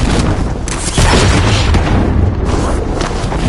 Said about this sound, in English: Rocket system deployed. It's coming.